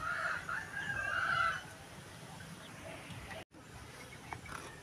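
Chickens cluck and a rooster crows near a homemade bamboo feeder built for hens and chicks in a rural yard, loud at first and then fading into quieter clucking and background noise.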